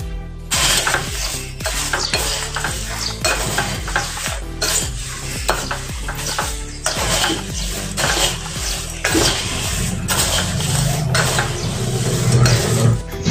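Papdi being tossed into puffed rice chivda, a spiced Indian snack mix: steady, close scraping and stirring with repeated clinks of a spoon against a metal pot, continuous through the whole stretch with no talking.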